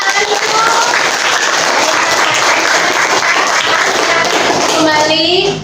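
A school audience, many of them children, breaks into sustained applause, a dense, steady wash of clapping that stays loud throughout and cuts off abruptly at the end, with faint voices mixed in.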